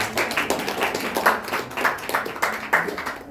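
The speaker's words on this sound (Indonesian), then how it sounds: "Boleh tepuk tangannya dulu untuk Salsa" A small classroom group claps for a student during a microteaching lesson, with sparse, uneven hand claps and distinct individual strikes rather than a dense roar, lasting a few seconds.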